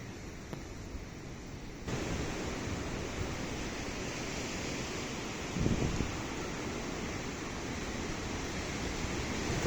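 A very strong night wind roars by the sea at a seaside guesthouse in Gelendzhik, a dense, unbroken rush of noise that swells louder partway through and then holds steady, with no voices.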